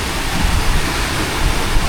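Rushing floodwater during a typhoon in Noveleta, Cavite, heard as a loud, continuous roar of broadband noise that stays constant throughout, with no voices.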